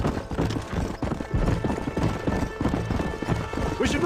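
Horse hooves galloping at a rapid rhythmic clip-clop in the Red Dead Redemption video game, loud and steady throughout, with voices over the hoofbeats.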